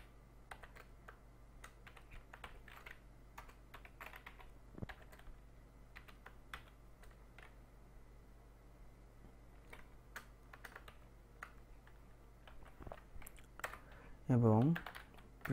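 Computer keyboard keys are tapped in scattered clicks and short runs while a name is typed in, quiet and close, with a voice speaking faintly in places.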